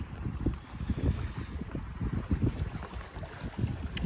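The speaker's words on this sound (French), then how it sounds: "ça c'est le vent" Strong wind roars steadily across a sailboat out on the water, with gusty buffeting and low rumbling over faint wave wash, no voices.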